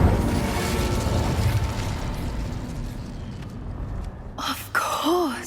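A whooshing burst of flame from the Incendio fire spell in Hogwarts Legacy, a steady roaring rush that swells and ends in a crackling pop, followed by a brief chirping squeak.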